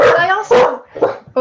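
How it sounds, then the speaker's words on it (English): Dogs bark and yip in short, loud bursts close by during a meeting, while a person talks over them. "sorry for the dogs, guys."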